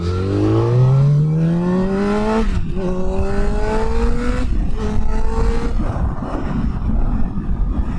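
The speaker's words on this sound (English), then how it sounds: "enjoy just some the sounds and views that we're getting from the FZ1 here" A Yamaha FZ1 motorcycle ridden at sunset: the engine is loud and close, revving up through the gears with rising pitch, clear upshifts and steady wind and road roar.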